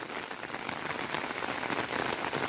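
Heavy monsoon rain pours steadily on a Konkan village orchard with mango grafts, a dense, continuous hiss of drops on surfaces close by, with no voices.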